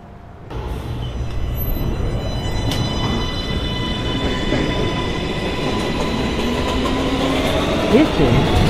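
Subway shuttle train in the NYC Subway Automatic game starting up from quiet, a rising motor whine and wheel squeal over a steady rolling rumble that builds throughout.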